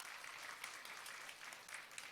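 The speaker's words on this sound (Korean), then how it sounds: "여러분 다시 한번 환영의 박수 부탁드립니다." An audience at a coaching best-practice sharing session gives a welcoming round of applause, faint and distant, a steady wash of clapping throughout.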